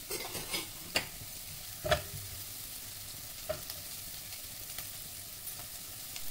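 Onions with turmeric and green chili sizzle steadily in a hot pan while a utensil stirs them, giving a few sharp scraping knocks over a continuous frying hiss.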